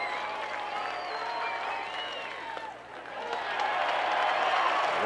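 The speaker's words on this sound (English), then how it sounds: "Mundelein fans on their feet cheering on the sophomore." Fans of Mundelein stand and cheer at a high school baseball championship game, a steady wash of crowd applause, whistles and shouts from the stands that dips briefly then swells louder toward the end.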